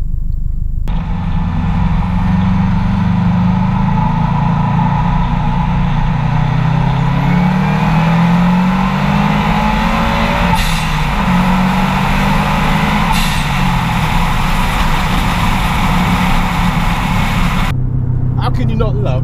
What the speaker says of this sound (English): How can you not love a Subaru, man? Come on! That noise is so addictive.